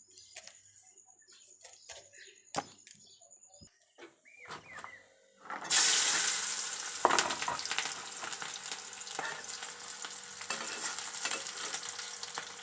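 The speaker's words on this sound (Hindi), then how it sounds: "इसमें हम प्याज जो है अपना डाल दें, तब तक प्याज जो है फ्राई होगा" Chopped onions with green chilies dropped into hot oil for a breakfast dish, first quiet clinks and taps, then a sudden loud hiss that settles into a steady frying crackle.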